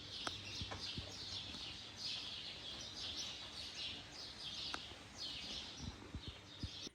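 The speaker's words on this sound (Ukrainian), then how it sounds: "Ось так ми слухаємо пташок і крапельки дощу, який ще не пішов знову." Several birds sing and chirp in the early morning after rain, their bright, overlapping calls coming in bursts over soft dripping raindrops and faint distant background noise.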